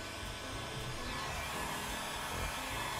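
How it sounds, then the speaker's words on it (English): Close and steady, a blow dryer roars without pause while heating the edges of a premium vinyl skin on a MacBook Air or Pro, with nobody talking. "Blow dryer, warm up the corners."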